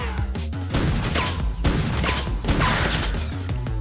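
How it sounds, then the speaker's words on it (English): Shotgun in the video game Choke Point firing and pumping, a dense run of loud, close blasts and mechanical clacks over game audio, with no clear pauses. "One fire, one pump."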